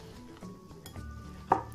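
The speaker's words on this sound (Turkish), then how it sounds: "Bir kaşık yardımıyla daha kolay yoğruluyor arkadaşlar." A spoon works cocoa cookie dough in a bowl, making soft scraping and dull clinks over a brief stretch, ending with one sharper knock against the bowl.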